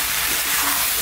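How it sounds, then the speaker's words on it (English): Garlic chicken and mushroom pasta in cream sauce sizzles steadily in a pan while being stirred, a close, continuous frying hiss with no pauses. "I'm going to cook this, stirring all the time for about 3 to 4 minutes"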